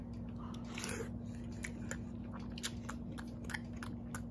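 Crunchy food with meat and stew being chewed in a steady series of close, faint crisp crunches and bites over a low constant hum.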